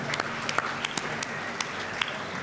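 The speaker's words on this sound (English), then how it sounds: "Big round of applause for David" Modest applause from a media awards audience, a small crowd clapping with several distinct sharp claps standing out over a softer background patter.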